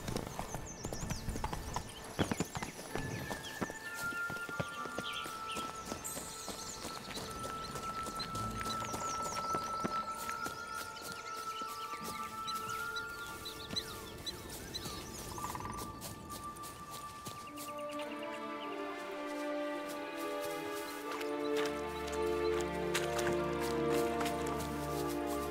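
Roach, the horse in The Witcher 3, trots with crisp, rhythmic hoof clip-clops that stay close and clear for most of the stretch, then fade under a rising musical score near the end.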